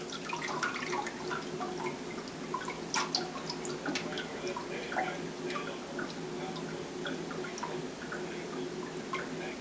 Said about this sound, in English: you lift it out of the water as level as you can and let that water drain out